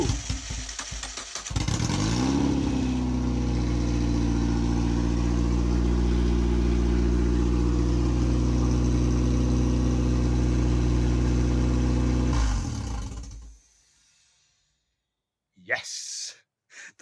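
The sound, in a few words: MEV Exocet kit car engine running after first start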